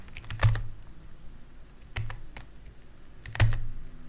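Computer keyboard pressed in a few sparse clicks and key taps while working in PyQt Designer on a Python UI project, with soft background hum between presses.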